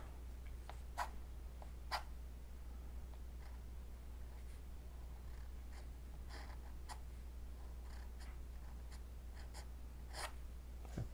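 A ruling pen dipped in dip pen ink scratches across paper in quick, forceful strokes for calligraphy, giving sharp, close scratchy ticks in irregular bursts over a steady low hum, with no voices.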